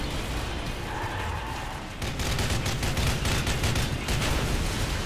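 A dense run of booming blasts and crackling bursts in Call of Duty: Modern Warfare 3, loud and continuous, intensifying after a couple of seconds into rapid overlapping detonations.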